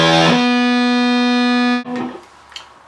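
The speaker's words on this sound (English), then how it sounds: "to hear the lead channel and to hear a lot of thick-ass leads" Electric guitar fitted with EMG 81/85 pickups plays a high-gain lead through a super-high-gain channel: one thick, distorted sustained note rings loud for nearly two seconds, then cuts off into quieter picked notes.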